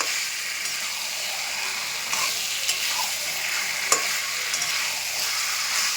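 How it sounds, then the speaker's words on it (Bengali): Chicken being stir-fried as kasha on a high flame, a steady sizzling hiss throughout with a few soft scraping stir clicks, moderately quiet and without talk. "হাই ফ্লেমে আমি 10 মিনিট কষবো, তারপরে ঢেকে রেখে কষবো।"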